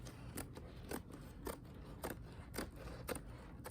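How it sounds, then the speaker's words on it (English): Scissors snip through burlap in a steady run of about seven close, crisp cuts, evenly spaced and moderately loud, with no talking. "we're going to just give the burlap a little trim."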